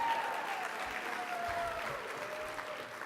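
Convention audience at the 32nd Annual HDSA Convention in Schaumburg, Illinois applauding, a steady, full wash of many hands clapping in a large room, fading slightly toward the end.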